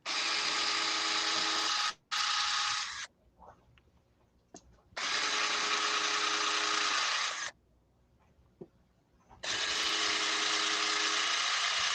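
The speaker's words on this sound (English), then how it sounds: "You drill until it's right there." A power drill bores into an arcade cabinet in three loud, steady bursts of high whine a few seconds each, separated by near-silent pauses with faint handling noises.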